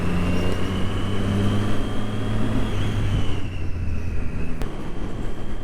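A Triumph Street Triple R 675 motorcycle on a lunchtime road ride gives a steady, loud engine drone with a held tone and constant rushing wind, continuous with no talking.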